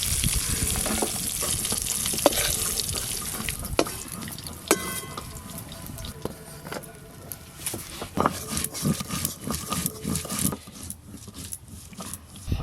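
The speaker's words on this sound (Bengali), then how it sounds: "ঝিঙে চিংড়ির জন্য এদিকে চিংড়ি মাছগুলোও কিন্তু বেশ ভালো করে ভাজা হয়ে গেছে" Prawns frying in oil in a pan for a ridge gourd and prawn dish: a steady, fairly close sizzle broken by scattered clinks and scrapes of stirring, with no talking.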